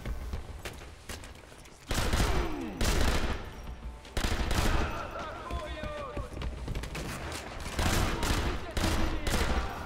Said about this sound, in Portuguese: Essa metralhadora é uma das melhores, você tem que saber administrar bastante a bala dela